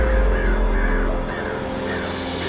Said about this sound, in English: Oh, there's crows.